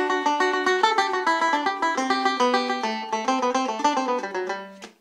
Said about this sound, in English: On a banjo, a tenor banjo will sound like this.